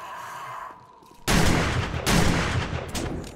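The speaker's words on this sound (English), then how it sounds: "Got a little shotgun action for you" A shotgun blast in the video game 7 Days to Die erupts loudly after a quiet moment, followed by a second burst and a lingering noisy tail, with no talk over it.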